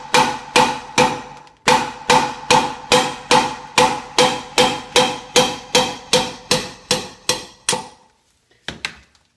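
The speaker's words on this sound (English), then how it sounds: "my little, I think this is a 3-pound sledge, and you just put the brass drift on the end," A 3-pound sledgehammer strikes a brass drift to knock out a wheel stud on a LandCruiser BJ70, about twenty sharp, evenly spaced metallic blows close by, with a brief pause near the start and two softer taps at the end.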